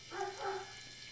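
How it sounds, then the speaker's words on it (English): A dog lets out a short, faint, wavering yodel-like vocal of two quick rising notes, heard close against a steady background hum. "sorry for the dog yodels."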